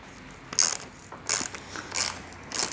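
A tool loosening a bolt on a Specialized Levo e-bike frame with notchy bearings: four short ratcheting, clicking bursts at even intervals, close up and moderately loud, with no speech.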